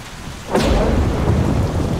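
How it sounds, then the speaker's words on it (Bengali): A sudden pre-monsoon Kalbaishakhi storm: a sharp crack of thunder swells into a deep rumble over heavy, steady rain, heard from shelter under a railway shed. "ঝমঝম করে বৃষ্টি এলো"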